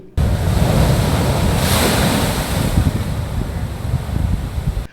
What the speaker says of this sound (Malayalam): പരിമണം ക്ഷേത്രത്തിന് എതിർവശം കോൺക്രീറ്റ് സംരക്ഷണ ഭിത്തി കടന്ന തിരമാലകൾ തീരത്തേക്ക് അടിച്ചു കയറി